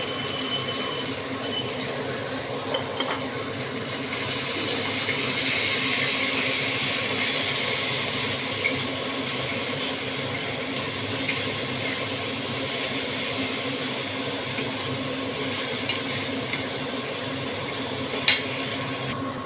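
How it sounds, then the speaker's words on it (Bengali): Tomatoes sauté in a pan with salt, cooking down until soft, giving a steady, low sizzle and stir throughout, with a few faint clicks and scrapes and no talk. "টমেটো কষে গেছে"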